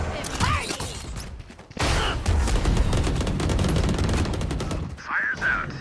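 A grenade blast and gunfire in the Valorant video game: a heavy booming burst erupts and sustains with dense rapid shots, flanked by brief voice fragments at the start and end.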